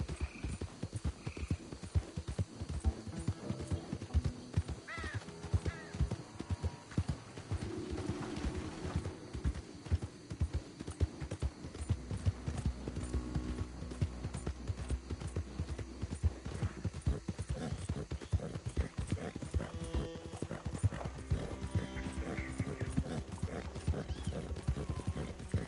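Horse hooves clip-clopping in the Red Dead Redemption II video game, a steady rhythmic stream of hoofbeats that carries on throughout, with an occasional whinny and faint ambient sounds mixed in.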